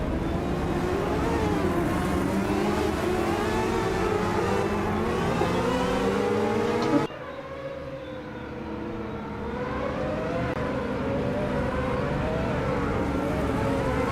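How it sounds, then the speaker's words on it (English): Race cars in a racing sim game roar together at a steady loud pitch, their engines droning and shifting tone as the pack builds speed behind a pace truck on a South Dakota circuit, with a brief drop midway. "What a loud set of cars we have here."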